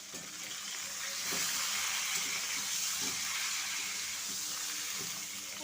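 Pointed gourd frying with turmeric powder in a pan: a steady, moderately loud hiss of sizzling oil that swells slightly in the middle, with faint soft knocks and no speech.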